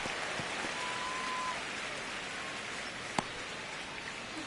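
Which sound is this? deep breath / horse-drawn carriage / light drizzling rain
light drizzling rain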